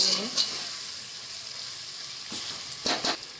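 Black masala spice frying in a pan, a steady soft sizzle with a few brief stirring clatters and scrapes, fairly faint and close.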